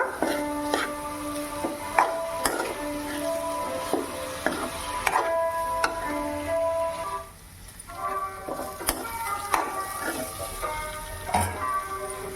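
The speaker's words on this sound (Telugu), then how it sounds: "రైస్ వేసుకొని బాగా కలబెట్టుకుంటాము బాగా కలుపుకోవాలన్నమాట" Cooked rice and paneer are mixed in a pan with a metal spoon, giving irregular ringing clinks and scrapes against the pan over a faint sizzle, close by and without speech.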